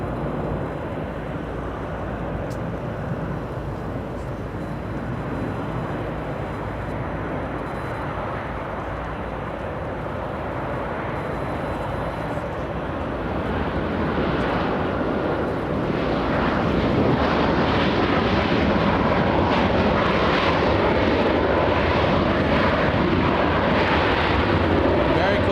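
A Canadian airliner arrives at LAX, its jet roar building from a low rumble to a loud, sustained rush in the second half, with some talk underneath.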